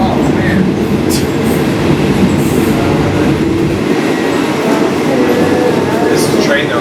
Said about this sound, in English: this is a great train ride